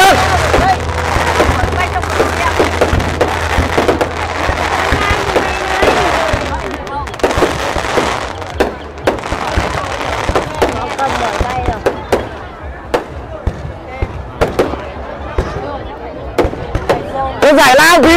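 Fireworks at the Lim festival in 2024 fire in a dense, continuous barrage of bangs and crackling bursts, loud and sustained, with people talking and a crowd murmuring underneath.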